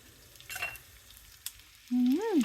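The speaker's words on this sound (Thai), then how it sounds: "ทอดหมูแดดเดียว" Sun-dried pork fries in plenty of oil with a faint, low crackle and a couple of brief pops, followed at the end by a short, louder tonal sound over the sizzle.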